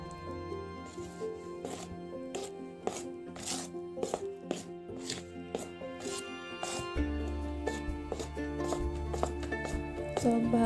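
Two eggs and vanilla essence being mixed by hand for banana cake batter, quick repeated tapping and clacking strokes in a steady rhythm, close and moderately loud.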